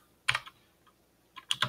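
Keys clatter on a computer keyboard in two short bursts of a few quick strokes each, separated by a near-silent pause, close and fairly crisp, while data is entered in Microsoft Word.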